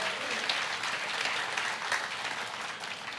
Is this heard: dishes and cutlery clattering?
no